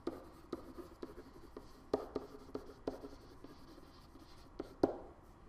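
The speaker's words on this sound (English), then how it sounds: "So let's write that into our notes." Pen scratching out handwritten notes during a chemistry mole and stoichiometry review, a steady run of short strokes and taps with a few sharper marks, close and quiet with no talk.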